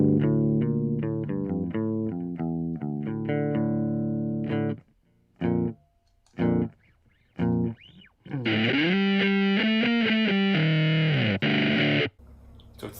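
Heavily fuzzed electric guitar chords from a digital fuzz effect on an Empress ZOIA pedal, buzzy and saturated, played in choppy bursts with brief gaps, then a long sustained distorted chord ringing out.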